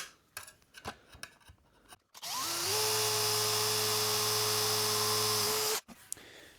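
A power drill bores a hole into a guitar body during a build, whining at a steady pitch for a few seconds after brief handling clatter, loud and close, then stopping abruptly.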